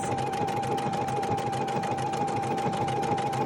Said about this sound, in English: It's feeding really all by itself as it sews down the length of the tear.